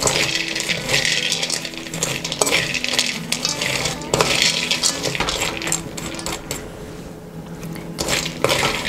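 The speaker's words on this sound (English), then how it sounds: "And mix it so that the butter will get spread evenly onto the peanuts." Peanuts being stirred with butter in a bowl, a steady rattling clatter of nuts against the bowl and utensil, close and continuous with brief clinks throughout.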